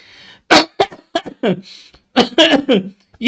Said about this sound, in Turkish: Kusura bakmayın arkadaşlar birden öksürük tuttu ya.